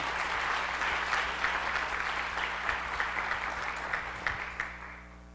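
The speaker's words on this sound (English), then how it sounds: "Let's give them a round of applause." Audience applause at a spring new teacher induction ceremony, a steady broad wash of clapping from a large crowd that holds fairly even for about five seconds, with no talking over it.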